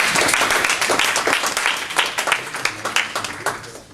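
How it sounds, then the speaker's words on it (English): Audience applause for meeting organizers, with distinct individual claps that start dense and loud and thin out as they fade, with some voices underneath. "Maybe a round of applause for them."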